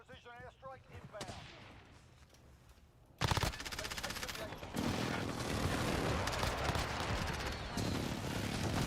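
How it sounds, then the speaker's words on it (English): Modern Warfare match: a precision airstrike slams in with a sudden loud blast, followed by dense, sustained gunfire and rumbling explosions. A brief tonal voice-like sound comes first, over quieter background noise. "Friendly precision airstrike inbound"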